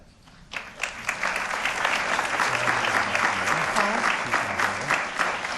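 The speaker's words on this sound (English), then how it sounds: "And we gave her a round of applause." At a school board meeting, applause starts suddenly after a brief quiet moment and holds steady as a dense crowd clap, with a low voice murmuring beneath it.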